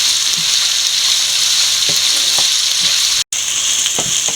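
Onion, ginger and garlic sauté in a pan for a Kerala-style rabbit fry, a loud steady sizzle close by, with faint scrapes of stirring and a brief drop to silence near the end.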